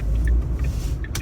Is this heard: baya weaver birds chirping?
no